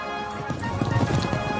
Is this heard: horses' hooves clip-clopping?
yes